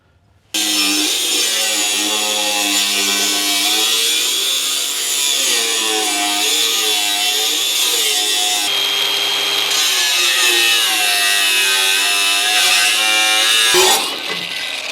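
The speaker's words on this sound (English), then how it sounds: "So I'm just gonna notch that out a little bit with the cutoff disc." A cutoff disc grinder notches body metal on a 1958 Plymouth Fury, a loud, steady high-pitched whine running for about fourteen seconds with a slight shift in tone midway before it cuts off.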